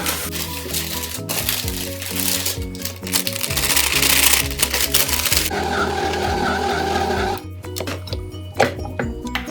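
An electric dough kneading mixer runs with a steady motor hum and a rough, churning grind as dough is worked. The noise changes pitch midway, and knocks and thumps come near the end.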